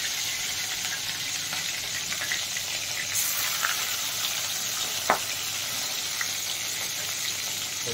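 Hilsa paturi frying in hot oil sizzles steadily and close, with a sharp spatter pop midway as water hits the oil, plus a few fainter crackles.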